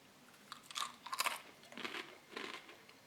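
Dry, plain wheat biscuits from a Russian Emercom emergency ration are bitten and chewed close up, giving three or four crisp crunching bursts with brief pauses between them and no talk.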